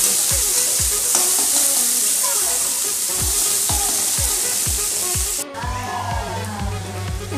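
Chopped tomatoes go into a hot frying pan of browned onions, a loud dense sizzle with regular stirring scrapes, then a sudden change as the wet tomatoes hit and the hiss softens and bubbles, no talk.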